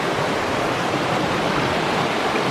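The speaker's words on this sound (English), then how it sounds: "and a magnificent creek." Steady rushing water from a creek, a continuous close wash of flow with no voices.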